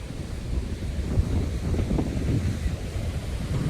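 Strong wind at Are Ware beach, a constant gusty rumble buffeting the microphone, with surf in the background and no voices.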